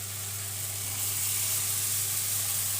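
Fried cauliflower cooking with spices, salt and turmeric in a pan for a cauliflower, potato and tengra fish curry, giving a steady, dense sizzle that holds evenly throughout and stays close and fairly loud, with no voices.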